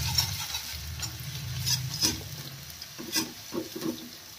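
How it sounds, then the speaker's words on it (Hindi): Chopped garlic and ginger fry in a pan for paneer sizzler gravy, a constant close sizzle broken by several scraping stir strokes, with no one speaking. "इसको अच्छी तरह भून लूँगी।"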